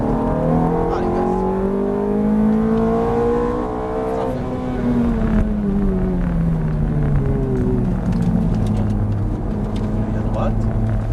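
A Ferrari F430 on a race track accelerates through the gears, its engine note climbing in loud, sustained pitch sweeps with gear changes, while a driving instructor talks over it continuously from inside the car.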